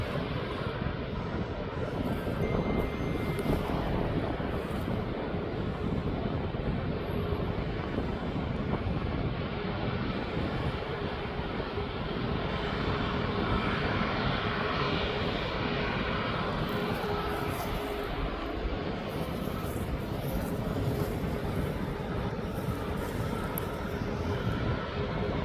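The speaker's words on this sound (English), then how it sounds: "And this Max 8 is going down to Crete in the Greek islands." A TUI Boeing 737 Max 8 airliner at East Midlands Airport gives a continuous, loud, broad jet engine roar with some wind buffeting on the microphone, sustained and steady for the whole stretch, with no speech.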